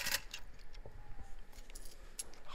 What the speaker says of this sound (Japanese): 両替してコインの音ね。